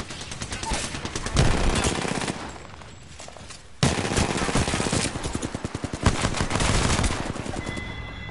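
Rapid automatic gunfire in a video game rattles in long, dense bursts, loud and close, with a brief lull before the shooting picks up again.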